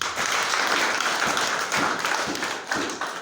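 A crowd applauds continuously, a dense wash of clapping with a few sharper individual claps standing out.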